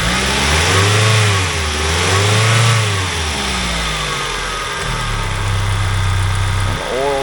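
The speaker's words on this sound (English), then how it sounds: "Motor runs nice." A 1999 Mazda Miata with an automatic transmission runs loud and close, its engine swelling through several revs before settling into a steady idle and then rising again at the end.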